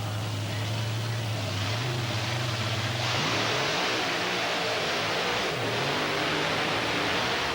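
Fred Shafer's Bearfoot Dodge monster truck roars through a 1995 PENDA race at Canfield, a loud, continuous engine drone over broad noise, its pitch stepping up and dropping as the throttle changes.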